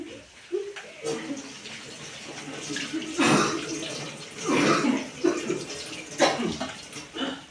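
Hands are washed under running tap water, a steady splashing stream with shifting gushes and bursts as the hands move through it, close by, with a voice murmuring faintly underneath.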